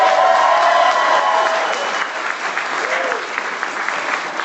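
Enthusiastic audience applause erupts at a training seminar, a thick continuous wash of clapping from a crowd that swells and stays strong throughout, with a voice briefly audible at the start.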